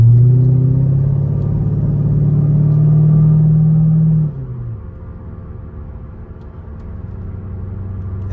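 C5 Corvette V8 given a light throttle blip, a loud, close, steady rumbling rev that holds for a few seconds before dropping back to a low idle.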